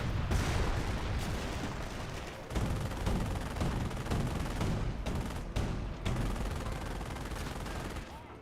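An artillery barrage in the Company of Heroes strategy game thunders in dense overlapping blasts and rapid gunfire, loud and almost unbroken, with brief gaps between salvos.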